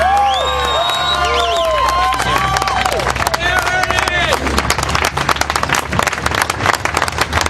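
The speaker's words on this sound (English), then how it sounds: "I want everybody here to give a major round of applause for Ernest Hancock." A crowd at the Fedstock II End the Fed rally erupts with shrill, sweeping whistles and cheering, then dense, loud applause builds and carries on under shouts and crowd noise.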